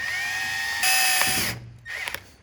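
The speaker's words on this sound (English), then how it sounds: "Let's drill a hole, see if we can get some out." A power drill bores a hole into a fluid-filled BMW control arm bushing, a loud steady whine that rises in pitch midway, then stops abruptly and is followed by a few short clunks and a brief restart.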